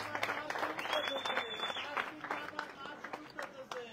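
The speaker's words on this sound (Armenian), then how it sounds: "Մեր ծափերով ողջունենք բոլորին։" A crowd at a political rally applauds in a steady burst of clapping. A loud voice talks over it through much of the stretch.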